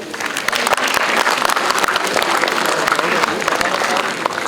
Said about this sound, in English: These applause should not stop.